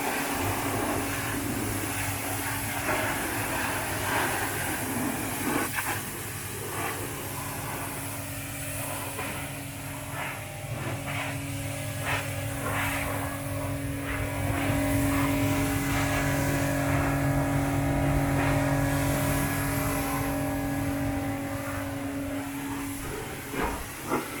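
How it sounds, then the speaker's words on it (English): A pressure washer sprays the wheel arches and underside of a Nissan Micra, giving a steady, loud hiss with a droning pump tone that continues without break throughout. "Let's get it pressure washed."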